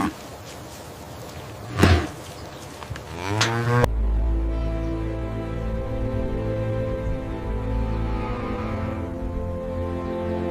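Galloway cattle on a large-scale farm, sheltering from the midday sun: after a couple of knocks and a clatter, a long, loud, deep moo sounds close by and carries on for several seconds.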